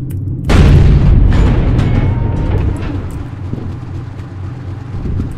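In a tank combat video game, a tank cannon fires a HEAT round. A sudden deep, heavy boom hits at once and rolls off into a long, fading rumble, loud and close, with no speech during the shot.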